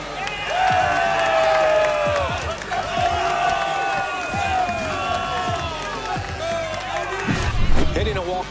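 A stadium crowd in MLB The Show 25 roars and cheers after a walk-off home run, a loud sustained swell of whoops and applause with announcer talk over it.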